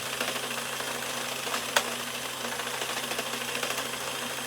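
A motorized Addi knitting machine runs steadily at its designed speed, giving a continuous mechanical whir with a faint ratcheting click and one sharp tick partway through; no one speaks.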